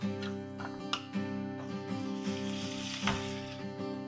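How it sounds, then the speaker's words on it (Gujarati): Fennel and cumin seeds sizzle steadily in hot oil, a close, crackling fry with soft stirring bumps, and no talk over it. "હવે વરિયાળીને જીરું થોડું સતળાઈ ગયું છે"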